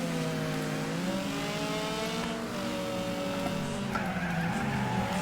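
Race car tires skidding as the car slides wide in Wreckfest, a sustained squealing screech with wavering pitch over engine drone, steady and close for the whole stretch.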